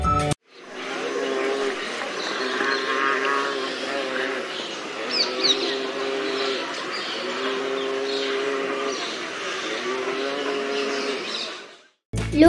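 Spot-billed pelicans, also called grey pelicans, calling from a noisy nesting colony in trees in Sri Lanka, a steady low, harmonic, droning chorus of overlapping grunting calls that runs on continuously at close range.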